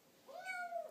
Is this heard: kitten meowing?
yes